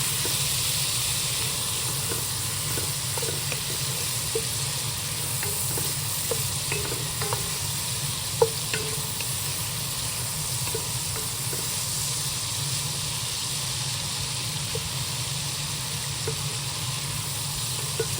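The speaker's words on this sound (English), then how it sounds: "you'll just add the shrimp in there to cook" Already-cooked shrimp sautéing in a hot pan for a holiday dinner, a continuous low sizzle with frequent light stirring scrapes and clinks, steady and close, no voices.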